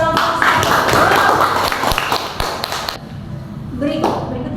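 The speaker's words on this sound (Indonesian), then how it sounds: "Tepuk tangan dulu untuk kelompok" Classroom students clapping for a group after its presentation, a dense burst of hand claps with a few sharp taps and thumps that fades out, followed by a brief voice.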